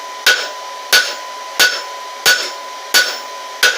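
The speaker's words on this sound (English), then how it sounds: "We're just going to planish it up with the remaining" Six sharp ringing hammer blows planishing a forged metal twist for a handle, evenly spaced about two-thirds of a second apart, close and loud with brief metallic ring after each strike.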